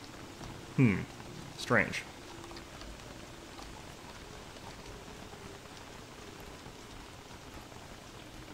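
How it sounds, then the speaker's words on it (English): Steady rain falls in the video game Don't Starve: Reign of Giants during autumn, a soft constant hiss throughout with a brief spoken word near the start. "Why is it raining so much?"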